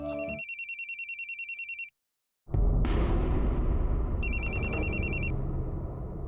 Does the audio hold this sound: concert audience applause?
no